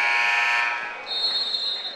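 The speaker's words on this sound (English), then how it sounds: "Whistles and buzzers in here." A loud electronic buzzer at a high school basketball game between St. George's and Raymond blares steadily for about a second, then gives way to a thinner, shriller tone over a noisy gym crowd.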